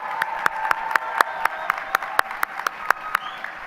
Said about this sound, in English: Take a moment, give them some enthusiastic applause